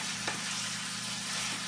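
Ground buffalo meat and onion frying in a pan at very high temperature, giving a steady, dense sizzle that runs throughout without a break.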